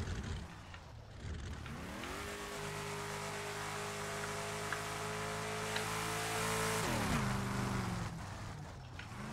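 In a racing video game, a race car engine holds a steady, droning tone that climbs in pitch, sustains for several seconds, then drops away, heard at moderate level over a faint background hum.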